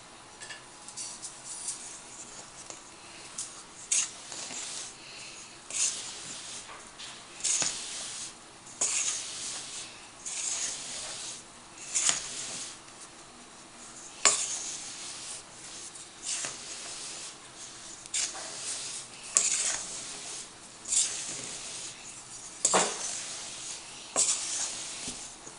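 Dry gingerbread dough ingredients with a pinch of salt being stirred in a bowl, giving soft, repeated scraping and swishing strokes in an irregular rhythm, fairly quiet and close, with no talking.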